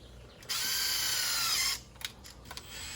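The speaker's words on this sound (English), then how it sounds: "the drill just goes right through the plastic if you push hard enough" A power drill drives a screw through a plastic fender flare in one loud burst of just over a second, followed by a few short mechanical clicks and handling noises.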